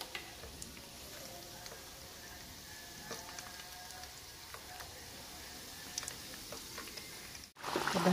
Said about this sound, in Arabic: وهذا هو غيتقلى في الزيت حتى هو غيطحن بالقشور ديالو